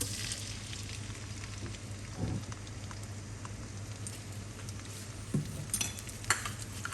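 Chilies sizzle and stir-fry in hot oil in a pan, a steady close crackling hiss with occasional scrapes and clinks of the spatula, and no talking.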